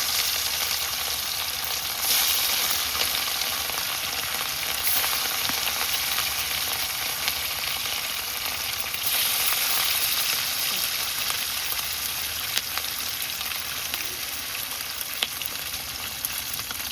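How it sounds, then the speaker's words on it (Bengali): Rohu fish frying in hot oil in a wok, a loud, steady sizzle and crackle that fills the whole stretch without pause, with faint stirring underneath. "মাছ ভাজা হচ্ছে"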